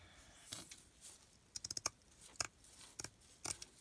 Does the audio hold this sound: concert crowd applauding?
no